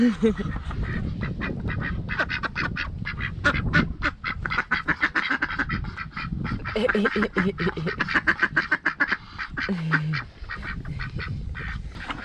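Crested ducks quacking loudly and repeatedly nearby, a busy chorus of overlapping rapid quacks with a few brief pauses.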